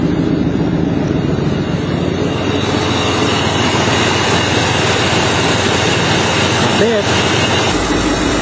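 A van engine idles at the exhaust pipe after a carburetor fix, giving a steady, loud, close rumbling drone with no popping.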